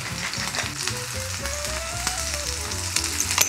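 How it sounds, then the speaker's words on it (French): A store-bought beef burger patty fries in a pan over high heat, giving a steady, close sizzle with some faint background tones. "Aujourd'hui, on va utiliser un steak haché à burger de chez Socopa. Allez, c'est parti dans la poêle, à feu vif."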